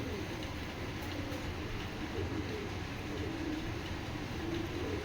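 Janssen bloodline racing pigeons in a loft coo softly in low, rolling murmurs beneath a constant broad background noise, with no speech.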